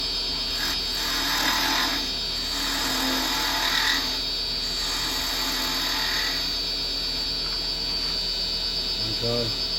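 A carbide chisel cuts wood on a lathe while a clock is turned: a steady high motor whine with soft scraping passes of the tool along the spinning workpiece, close and continuous.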